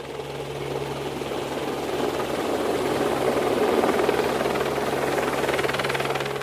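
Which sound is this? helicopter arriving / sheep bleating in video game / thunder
helicopter arriving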